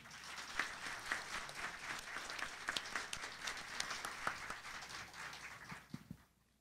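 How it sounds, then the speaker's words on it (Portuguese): Applause from the audience at an anniversary ceremony for a fiscal and accounting study center, a fairly faint, steady patter of many hands that drops away at the end. "A todos uma salva de palmas."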